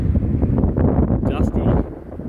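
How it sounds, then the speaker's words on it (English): Strong wind in a dust storm at Mildura, roaring and buffeting the microphone as a loud, continuous low rumble with gusty surges. "Dusty, windy and awful."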